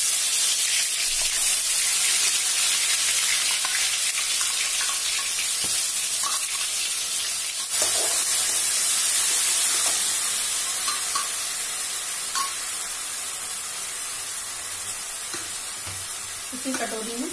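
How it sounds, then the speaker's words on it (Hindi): Onion, garlic, ginger and green chili paste fries in a hot wok with a loud, steady sizzle and hiss that runs throughout, fading slightly toward the end, with faint stirring clinks underneath. "कढ़ाई गर्म हो गई है, इसमें मैं प्याज लहसुन अदरक और हरी मिर्च का जो पेस्ट अभी पीसा है वो डालूंगी।"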